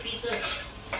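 Chopped onions frying in a pot for chicken biryani give a brief, close, continuous hiss and sizzle with a faint stirring scrape, and no one talks.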